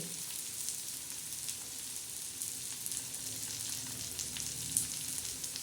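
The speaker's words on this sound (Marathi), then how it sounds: "आता ही पात्रीची भाजी आपण त्याच्यावर टाकून दिलेली आहे" Wild pathri greens fry with onion in a pan, a steady close sizzle with soft stirring scrapes, no voices.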